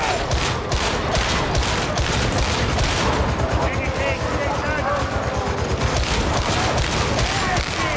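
Gunfire in a Warhammer video game, a dense, loud, continuous barrage of rapid shots and impacts throughout, with excited talk mixed in over the shooting.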